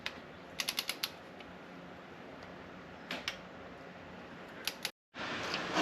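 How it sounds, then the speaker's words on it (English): A torque wrench tightens a magnetic drain plug with a new washer to 14 foot-pounds on a Hammerhead GTS 150 Platinum transmission. A few quick, sharp clicks come in small clusters, close by and fairly quiet, with no voice. "I'm going to use a torque wrench and torque it to 14 foot-pounds."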